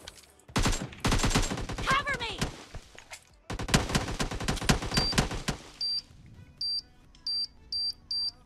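Bursts of AKM rifle fire from PUBG Mobile rattle loudly in two long volleys of rapid shots, followed by a row of short electronic beeps.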